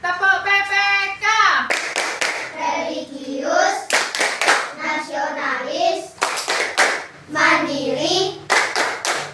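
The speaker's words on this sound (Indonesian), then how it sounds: "marilah kalian tepuk PPK" Schoolchildren in an Indonesian classroom perform the PPK clapping routine: loud, sharp bursts of group claps in quick sets alternate with chanted words from the class, repeating rhythmically throughout.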